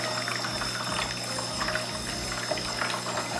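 Water streams from the shower screen of a La Marzocco Linea Mini espresso machine, a steady close pouring trickle over a constant pump hum, with faint splashing flickers.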